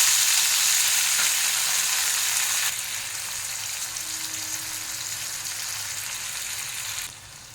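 Chopped tomatoes hit hot oil in a pan for a vegetarian soybean curry, giving a loud, crackling sizzle that eases and steadies into a softer, continuous fry, with a faint stir toward the end.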